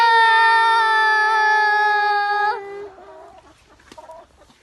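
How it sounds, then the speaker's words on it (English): Chickens being looked after give a loud, close, drawn-out squawking call lasting a few seconds, followed by softer scattered clucks. "So these are our chickens we are looking after."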